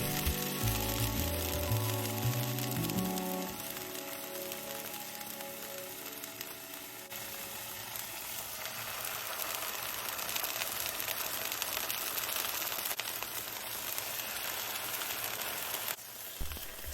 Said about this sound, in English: Get the pan super hot and then get the steaks in there.